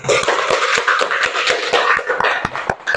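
Classroom applause from a group of students, a burst of rapid, uneven hand claps with many sharp slaps close together, moderately loud and steady for a few seconds.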